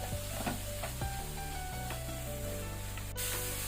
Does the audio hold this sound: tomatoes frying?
yes